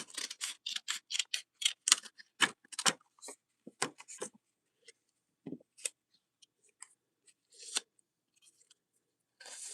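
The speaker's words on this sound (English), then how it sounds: "So we're gonna cut this right here." Scissors snip through material in a quick run of sharp, close cuts, then a few scattered snips with pauses between them.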